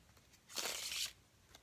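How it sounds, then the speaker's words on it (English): Tarot deck shuffled by hand, a single brief riffle of cards, soft and close, lasting about half a second in an otherwise quiet room. "Last shuffle."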